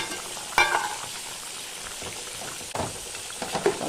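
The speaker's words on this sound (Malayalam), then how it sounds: "നന്നായി ഫ്രൈ ആവട്ടെ" Chicken frying in a pan on low heat gives a steady soft sizzle, broken by a sharp clatter near the start and another stir scrape later, with no voices.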